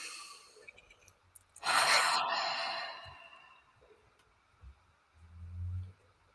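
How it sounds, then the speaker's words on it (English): A single deep breath, a loud breathy rush taken close to the microphone during a guided calming exercise, followed by quieter low sounds and a brief murmur. "deep breath."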